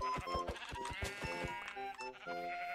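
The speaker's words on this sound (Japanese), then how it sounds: "あ、羊めっちゃいる！" Several sheep bleat in a Minecraft world, a run of short nasal baa calls overlapping one another at close range over faint game music, loud and clear with no talking.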